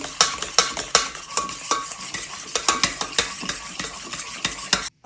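A spoon clinks rhythmically against a bowl while stirring in baking soda, quick repeated taps over a soft scraping background, close by.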